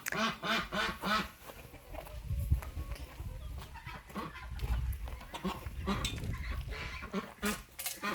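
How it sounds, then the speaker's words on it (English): A Khaki Campbell duck quacks in rapid, repeated bursts up close, joined by other farmyard fowl calling over a low rumbling background. "We got a new duck."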